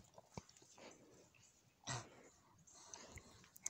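A wet Labrador dog sniffs, snuffles and breathes close by outdoors in a backyard, with short bursts of huffing and one louder snort in the middle.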